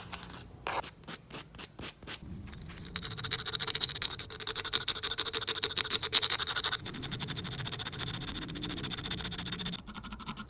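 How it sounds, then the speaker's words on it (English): Small wood mosaic bookmark pieces are sanded by hand with 100 grit sandpaper, first a few separate scrapes, then continuous close rapid rubbing and scratching. "so I need to sand all this off"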